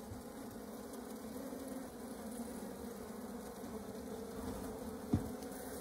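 Honey bees drone steadily around an opened hive while queen cells are cut out, a continuous close buzzing swarm with one brief sharp knock near the end.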